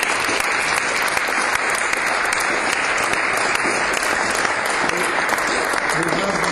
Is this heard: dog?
no